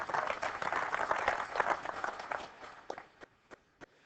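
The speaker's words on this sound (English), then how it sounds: "Can we have a round of applause for Clemens pointing this out?" An audience at a Microsoft TechEd tech conference session gives a round of applause, dense clapping that thins out toward the end into a few scattered, separate claps.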